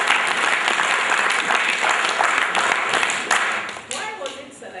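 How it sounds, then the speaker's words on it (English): An audience applauds a team at a grant launch event, with steady, dense clapping close by that thins and fades toward the end, and voices audible underneath. "And I think you should clap for your team."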